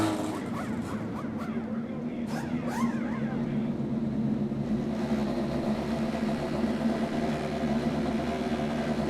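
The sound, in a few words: INDY NXT race car engines starting and idling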